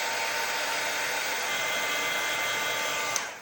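A heat tool blows steadily and continuously on a thin line of glue pen adhesive to dry it before gilding flakes are applied, a close, even airy whoosh that runs alone for the whole stretch.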